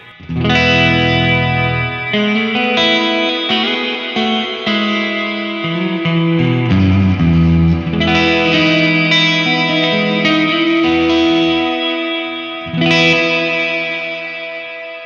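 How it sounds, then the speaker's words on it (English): Electric guitar played through a Boss RV-5 digital reverb pedal at maximum in hall mode, sustained distorted chords blooming into a long, washing reverb tail that swells with each new strum. "So you can see that at maximum, you get really long reverb times."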